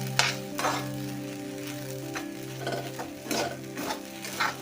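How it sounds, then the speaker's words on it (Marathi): Sabudana is stirred up from the bottom of a pan, with a soft sizzle and scraping strokes at irregular intervals and a few faint clinks, quiet and close. "आणि हलवताना वरचेवर अजिबात हलवू नका हलवून तळापासून असं हलवून घ्या म्हणजे ते खाली चिटकून बसत नाही"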